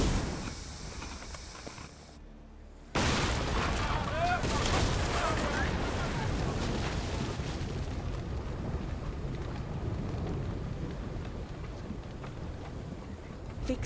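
A ship fires its cannons during a naval battle in Assassin's Creed Odyssey, a dense rumbling volley of booms under constant wind and sea roar, loud and sustained after an abrupt start.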